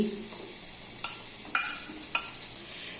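Boiled chicken pieces cook in a pan with a light, steady sizzling hiss, broken by three distinct scraping stirs of a spatula; nobody speaks.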